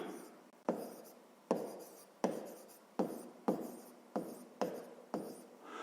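A pen writes by hand on paper while working a fifth-grade math exercise, with a series of about nine crisp strokes at a steady rhythm, close and alone.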